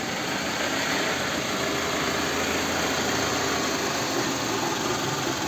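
Toyota Estima engine idling with the transmission in drive, a steady broadband hum and rumble that holds evenly throughout, close and fairly loud with no talk.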